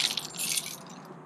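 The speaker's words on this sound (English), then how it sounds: "grab the keys." Keys for an RV door deadbolt are grabbed and jingle in a brief bright metallic clatter, a few quick clinks fading into a softer rattle, close and fairly quiet.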